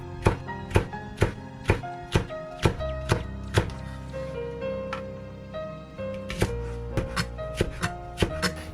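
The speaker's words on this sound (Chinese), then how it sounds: "1个青辣椒和1个红辣椒，也切成丝" A kitchen knife slices green and red chili peppers into thin strips on a cutting board, a steady run of sharp, close chops with brief pauses between bursts.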